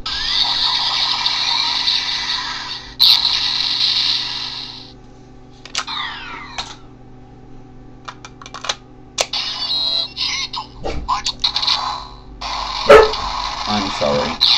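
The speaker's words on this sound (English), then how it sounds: "my dog was barking." A dog barks in a few sharp, intermittent bursts, mixed in with the electronic chimes and clicks of a Double Driver transformation belt toy.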